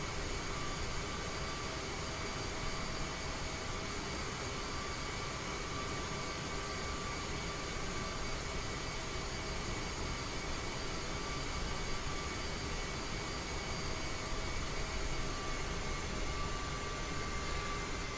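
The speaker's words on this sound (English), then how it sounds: "we're going to taxi out here, make a right at the end, and then we're going to head all the way down to the end of runway 15" Steady broadband jet whine and rumble of an AeroSoft CRJ-700 regional jet taxiing in Microsoft Flight Simulator, engines running continuously at low power with a constant hiss, no talk.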